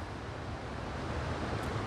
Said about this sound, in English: Look at this location here. These waterfalls.